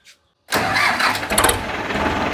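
A heavy Indo Farm tractor engine, with 1953 hours of use, cranks and roars to life abruptly, then settles into a loud, rough idle close by.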